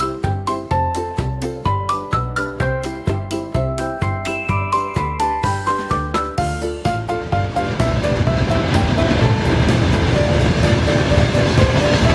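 At a LEGO railway station, a bright, plinking melodic tune gives way to a train's steady, loud rolling rumble that continues to the end.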